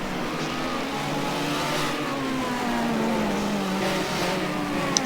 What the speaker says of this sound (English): 2 laps to go now, Mr. Please, 2 laps to go